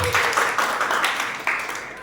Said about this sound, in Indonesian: Tepuk tangan dulu dong buat Tuhan.